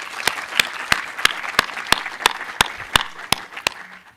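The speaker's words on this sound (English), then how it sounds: "Can we give Mrs. Graham a round of applause?" Applause for Mrs. Graham at a university professorial inauguration ceremony, sharp claps landing in an even, regular rhythm about three per second, loud and close over a murmuring hall.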